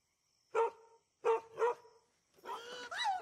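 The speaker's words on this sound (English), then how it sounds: "The dog, Mr. Herc?" A dog barks three sharp times close by, single, then a quick pair, followed by a longer, whining yelp, each burst separated by silence.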